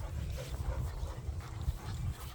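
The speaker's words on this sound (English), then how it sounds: "Look at these dogs, they love them." Dogs snuffle, whimper and pant close by in a relaxed home setting, with soft low rumbles and faint movement noise and no clear barking.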